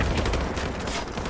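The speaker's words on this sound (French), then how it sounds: "Il y a du lance-grenade par contre." Grenade launcher fire and explosions in the shooter Call of Duty 4, a dense continuous roar of blasts and crackling gunfire filling the whole short stretch at steady loudness.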